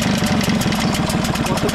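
A boat engine idles steadily with a low, rapid pulsing throb and some mechanical rattle, close by and continuous, with a cooling water outlet running.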